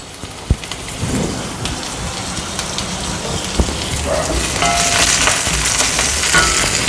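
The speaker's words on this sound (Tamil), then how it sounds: "இப்போ கறிவேப்பிலையை சேர்த்துக்கலாம்." Curry leaves hit sputtering onions in a hot pan, setting off a loud, close crackle of popping oil with a few sharp bursts that builds into a steady sizzle, with no voices.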